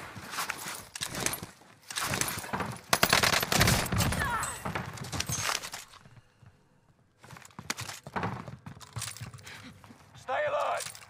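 Gunfire in the battle-royale shooter Warzone, including sniper shots, comes as a run of sharp, loud bursts and cracks with a quieter gap in the middle, and louder shots return near the end.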